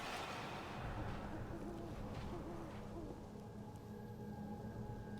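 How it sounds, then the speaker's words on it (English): An owl hoots in a video game, Life is Strange: Double Exposure, with low soft hoots repeating over a steady noisy ambient wash of the game scene. "I hear the owl, but I don't see it."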